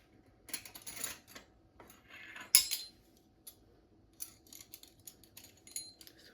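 A metal teaspoon scrapes and clinks against a container while baking soda is measured for banana bread, producing quiet, close, intermittent metallic taps and rattles.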